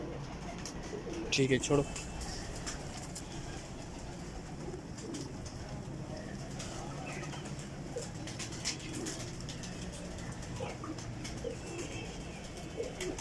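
Pigeons kept by a breeder coo softly over steady background noise while people talk nearby; a brief louder burst of calls stands out early on.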